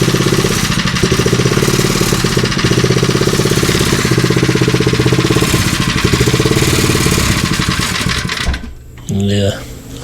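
A small minibike engine running on choke chatters in a rapid, loud, steady putter close by, then briefly dips before picking back up near the end.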